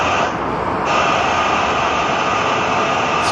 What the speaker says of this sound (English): It's KLM 636 to Amsterdam in a 5-year-old Dreamliner.